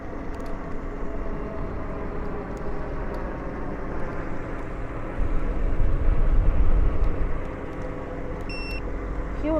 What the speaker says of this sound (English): A lot of airplanes.